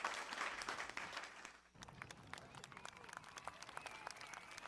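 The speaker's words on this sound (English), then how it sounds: "That's like a festival audience." Applause from a distant festival audience, a dense wash of many hands clapping heard from far off, steady then briefly dipping before continuing with scattered claps.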